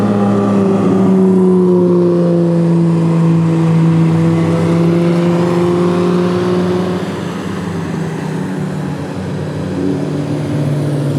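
Toyota MR-S sports car driving on a track, its engine droning steadily from inside the car with a sustained tone that rises and dips as the revs shift, loud and continuous.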